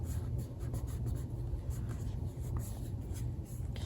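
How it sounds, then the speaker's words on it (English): Washi tape torn off a roll and pressed onto a paper journal page while decorating a Halloween signature, a close, steady scratchy rustle of tape and paper handling lasting several seconds with no talking. "I'm just gonna rip off a little piece and"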